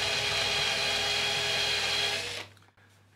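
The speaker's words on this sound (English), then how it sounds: "Let's start with the three-lip countersink bit." A drill turning a high-speed steel three-lip countersink bit gives a steady loud high whine for about two and a half seconds, then cuts off abruptly, with no talk.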